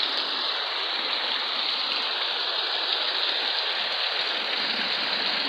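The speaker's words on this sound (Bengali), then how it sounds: "বৃষ্টি প্রবল বাড়তে চলছে" Heavy rain pours down in a dense, continuous hiss at a steady level with no voices, while floodwater rises around nearby houses.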